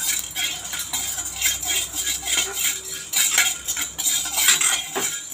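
Cumin seeds and black pepper dry-roasting in a pan for annapodi, stirred with a metal spoon that scrapes and clinks repeatedly against the pan, close-up with a light crackle underneath.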